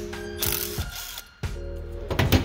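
A hand ratchet loosens bolts on the VGT turbocharger of a Ford 6.0 diesel, sounding as close, loud bursts of rapid clicking separated by a short pause, with no voices.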